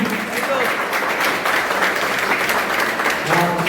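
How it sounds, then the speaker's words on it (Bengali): A crowd claps steadily at a pigeon club prize distribution, dense applause running through the whole moment while someone talks loudly over it. "জোরে হাততালি দিন।"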